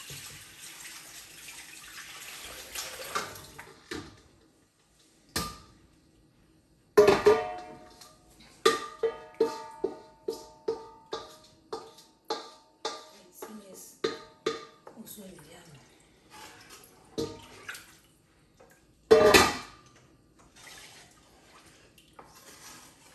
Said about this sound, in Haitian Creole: Bien frit là, il va brûler. So, on y a mettre de l'eau.